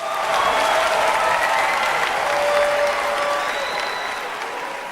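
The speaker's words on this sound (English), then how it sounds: "Let's get another round of applause for the Elevators." A studio audience on a televised talent show applauds a performing group, a thick, steady roar of clapping with some crowd cheering that stays strong and slowly eases over a few seconds.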